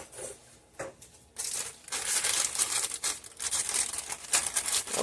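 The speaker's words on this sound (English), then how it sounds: "So you want to open up your cake mix." A cake mix packet is torn open for lemon-lime cupcakes, with close, bright crinkling and crackling of the plastic package coming in bursts, starting quietly and growing busier and louder, with no talking.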